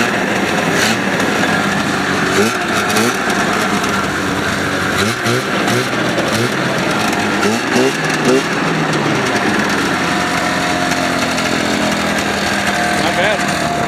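Old Ski-Doo snowmobile that had sat unused for over five years, running on a jerry can fuel hookup: a steady, buzzing two-stroke engine, loud and close throughout, with speech faintly mixed in.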